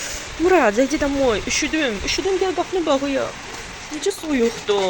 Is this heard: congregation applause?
no